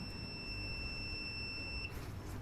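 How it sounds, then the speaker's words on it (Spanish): A digital irrigation timer's buzzer sounds a thin, steady high electronic tone for about two seconds over a low background hum, then cuts off. "Esta alarma es el buzzer que avisa que se inicia el proceso del goteo del agua"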